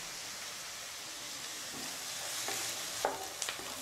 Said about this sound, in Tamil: வெங்காயம் வந்து நல்லா வதக்கிடுங்க